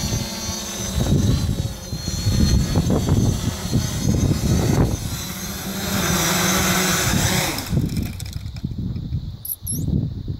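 A small camera drone with a gimbal comes in to land under manual control in a tight, grassy spot, its propellers giving a steady, close, whirring buzz that swells and fades as it descends.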